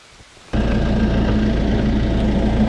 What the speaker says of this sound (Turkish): Yağmur epey yağıyor.